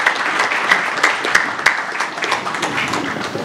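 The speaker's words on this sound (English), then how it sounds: "I'd just like us to give a hand of applause to our distinguished speakers" An audience at a UK-Africa business forum applauds its speakers, a dense wash of clapping with a few sharper individual claps standing out. The applause is steady and fairly loud throughout.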